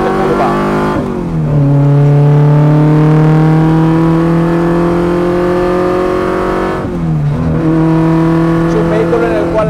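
An Abarth racing car on a circuit, its engine revving loudly and rising in pitch, dropping off under braking, then pulling hard again. Someone talks over the engine noise.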